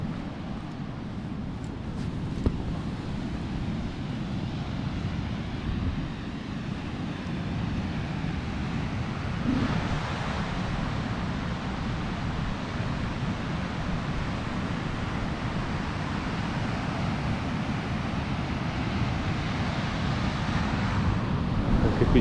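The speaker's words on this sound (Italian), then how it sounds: "Qui c'è il vento" Steady wind on a sand dune roars across the whole stretch, a constant broadband rush with gusty buffeting against the microphone and no pauses.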